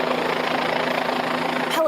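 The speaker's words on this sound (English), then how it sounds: "Helicopters, canines, and law enforcement from every level joined in the search efforts to find this escaped prisoner, Ramon Alston." A police helicopter drones steadily overhead as law enforcement searches for an escaped prisoner, a continuous rotor-and-engine rumble filling the scene without a break.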